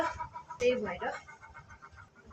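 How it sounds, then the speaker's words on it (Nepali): Chickens cluck faintly in a village yard in the background while a person talks in the foreground. "यही हो भने चाहिँ ब्याकग्राउन्ड म्युजिकमा कुखुराहरू कराउँदै होला"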